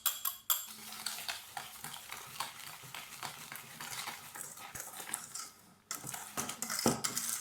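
Egg yolks, sugar and cornstarch whisked in a bowl, a busy scraping and clinking of the whisk against the dish in uneven bursts with brief pauses, close and fairly quiet.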